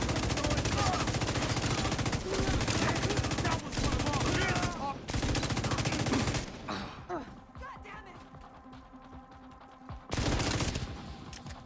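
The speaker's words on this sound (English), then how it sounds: "I'm gonna unload my LMG first." Light machine gun emptying its magazine in a video game: a loud, sustained stream of rapid automatic fire, a long quieter gap with softer sounds and some voice, then a short renewed burst.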